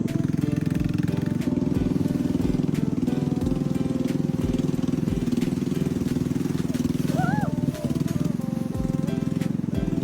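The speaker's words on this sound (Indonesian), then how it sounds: "Baru saja perahu mulai melaju" A motorboat engine drones steadily and loudly as the boat starts moving on a river with rapids in a jungle setting, a constant low engine hum with some rushing and splashing on top and faint voices in the background.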